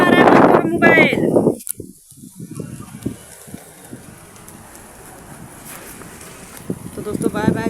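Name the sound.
wind blowing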